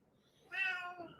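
A cat meows once at a door, a short, clear, rising-then-falling meow close to the microphone in a quiet room.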